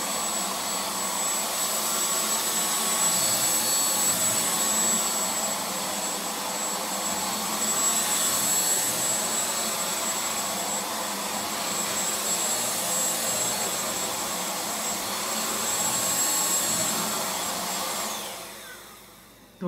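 Ultenic U10 cordless stick vacuum cleaner running at speed 2, a loud steady whirring motor roar with slight swells that holds for most of the time, then winds down and cuts off at the end.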